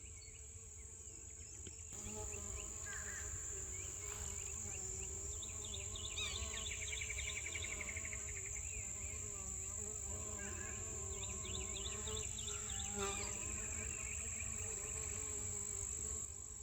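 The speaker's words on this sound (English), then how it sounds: "listen to the bees." Steady buzzing of many bees, a dense insect hum that continues throughout, with faint birdsong and chirps in the background.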